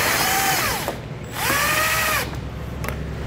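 A power driver spins out T15 Torx fasteners from a 2021 Chevrolet fender liner, two close, loud bursts of whining motor with rising and falling pitch, then a brief tap.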